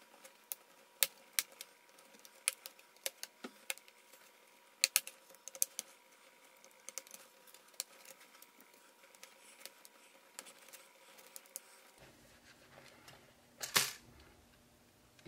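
Prying the bottom cover off a Dell Latitude 5400 laptop with a plastic tool gives a series of sharp clicks and snaps as the clips release, close up and fairly quiet, with a louder crack near the end.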